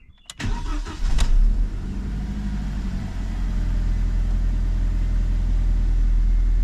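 A car engine cranks briefly and catches after brake booster, master cylinder and ABS unit replacement, then settles into a steady low idle rumble heard close by.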